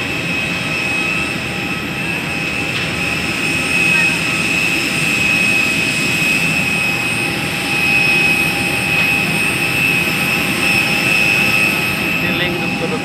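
Jet engines of a Citylink passenger aircraft at Syamsuddin Noor airport in Banjarmasin keep up a steady, loud whine and roar, with a high tone held throughout and voices murmuring underneath.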